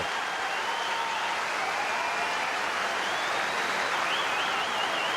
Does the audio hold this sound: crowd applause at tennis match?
yes